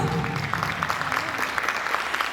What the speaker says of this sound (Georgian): როგორ ტაშსაც იმსახურებენ, ისეთი ტაში. ვუძღვნათ გოგონებს გთხოვთ